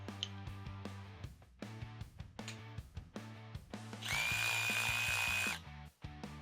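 A Ryobi micro lithium cordless ratchet whirs in a steady burst of about a second and a half, surrounded by repeated rhythmic clicking and tapping, close and fairly quiet overall.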